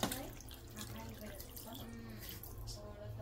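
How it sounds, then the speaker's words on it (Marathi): Water running from a tap into a pot of chicken pieces set to be boiled, a steady moderate pour with faint splashing throughout. "यात लागेल तेवढं पाणी घालायचं आहे।"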